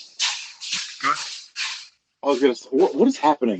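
A dog moves around indoors, making brushy, sweeping-like shuffling noises in bursts early on, followed by people talking.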